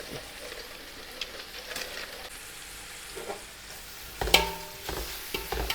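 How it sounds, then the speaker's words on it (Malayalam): Onions sautéing in oil in a pan, a soft steady sizzle with occasional stirring clatters and a louder scrape near the end, close by. "ഉള്ളി ഒന്ന് ചെറുതായിട്ട് വഴക്കുമ്പോൾ നമുക്ക് എണ്ണ ഒഴിക്കാം"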